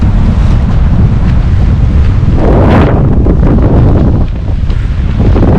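Strong wind buffets the microphone aboard a sailboat with the mainsail up, a constant loud roar with gusty swells and no clear voices.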